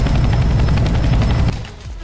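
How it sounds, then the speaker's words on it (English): A helicopter in the video game Counter-Strike: Global Offensive roars loud and close with rapid rotor thumping, then drops sharply to a quieter hum as it passes. "There's the chopper."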